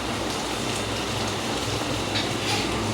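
Steady rain falls during the monsoon, a dense continuous hiss of drops on surfaces, loud and even throughout with no voices.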